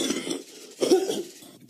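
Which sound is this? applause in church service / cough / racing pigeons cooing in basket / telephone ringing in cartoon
cough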